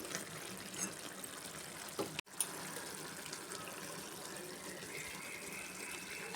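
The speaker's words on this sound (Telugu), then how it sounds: "ఇప్పుడు పులుసు పోసేసుకుందామండి." Tamarind juice pours into a simmering bottle gourd curry in a Telugu home kitchen, a steady watery splashing that runs for several seconds with a brief break partway through.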